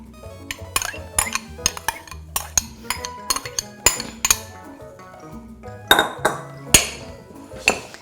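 A spoon breaking up cooked basmati rice in a bowl, producing a run of bright metallic clinks and taps at an irregular pace, close and fairly loud, with no voices.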